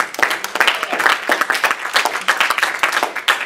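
A church congregation claps hands in praise, a dense, lively burst of many people applauding with uneven rhythm, loud and close, with faint voices mixed in.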